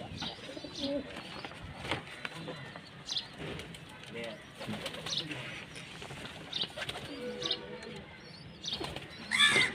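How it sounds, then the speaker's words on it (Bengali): Pigeons in a rooftop pigeon farm coo softly and steadily, with occasional wing flaps and chirps from young birds, while a person talks nearby at moderate volume. "এই যে আমার কবুতর খামার।"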